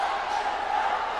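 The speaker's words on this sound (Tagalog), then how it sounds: "Listen to the crowd roar, partner." A basketball crowd roars through a finals game in the Ako Bicol Cup, Camarines Norte, a dense, loud, sustained wash of cheering voices.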